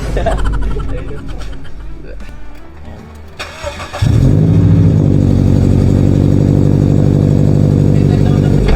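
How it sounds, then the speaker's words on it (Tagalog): A car engine cranks and catches partway through on a cold start, then settles into a loud, rough, steady idle close by. A voice can be heard briefly beforehand. "medyo maingay siya kasi cold start pa siya"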